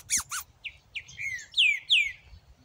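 A blue cardinal (cardenal azul) calling nearby, a series of sharp chirps followed by clear, sweeping whistled notes, loud against a quiet low background rumble.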